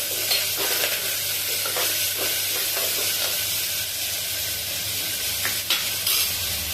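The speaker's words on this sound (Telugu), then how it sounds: "చింతపండు, సన్నగా కట్ చేసుకున్న ఆనియన్ ముక్కలు, కరివేపాకు, వీటన్నింటిని బాగా కలుపుకొని" Tamarind, thinly sliced onion and curry leaves being mixed together in a pan for tomato rasam, with a constant hissing sizzle and soft, scattered stirring scrapes, close and steady throughout.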